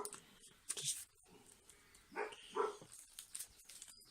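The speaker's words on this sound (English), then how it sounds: "that's my dog in the background, you can hear." A German Shepherd and a Collie barking and whimpering faintly in the background indoors, with short scattered bursts of yips and barks spread across a quiet room.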